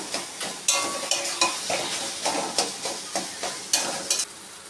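Taro leaf greens (kochu saag) cooking in a pan over low gas, a soft steady sizzle broken by repeated scraping stirs of a spatula against the pan, close and alone.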